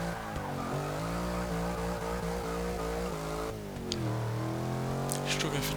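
A 2014 Jeep Grand Cherokee SRT in Forza 6 revs its engine hard, with the pitch rising and shifting, as the tires scrabble for traction. The engine drone stays loud and steady throughout.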